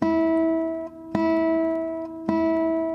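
Three nylon classical guitar notes plucked with a fingernail one after another, each a bright, twangy attack ringing out and sustaining clearly before the next pluck.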